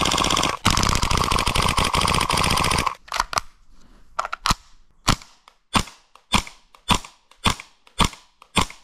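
MP5K airsoft gun firing, first a loud sustained rapid-fire burst, then a series of sharp single shots spaced at a steady rhythm, close and loud.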